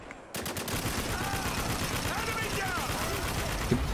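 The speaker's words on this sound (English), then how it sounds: "Almost shot our own guy again. 50 cal this time." In the video game Spec Ops: The Line, a .50 cal machine gun keeps up steady fire under continuous game noise, with a single sharp thump near the end.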